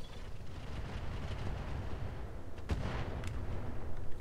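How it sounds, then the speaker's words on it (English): Mech weapons firing in the battletech game Roguetech: a low, rumbling barrage with heavy booms, one sharp blast standing out near the end, fairly loud and without talk. "Firing on target."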